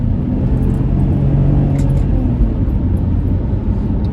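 A BMW X3 with a 5-speed Steptronic gearbox held around 5000 RPM in second gear, heard as a loud, steady droning engine and road rumble from inside the cabin.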